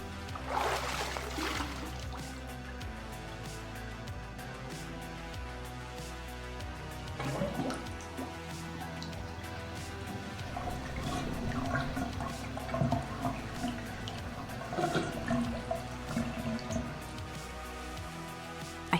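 Warm bath water sloshing and splashing in a radio drama, a continuous wet swirl with drips and trickles, louder surges near the start and in the middle, set against a low steady background.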